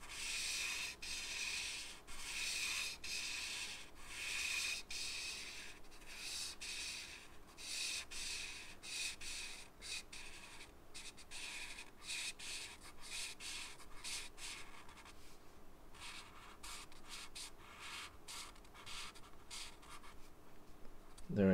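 A Copic alcohol marker drawn across paper while coloring a cardinal drawing, a continuous scratchy rubbing of repeated strokes that is close and fairly loud, with no voice over it.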